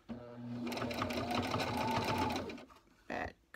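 A sewing machine runs in one sustained burst while back stitching a fabric face mask, then stops, followed by a short second whir; a voice speaks faintly at the start.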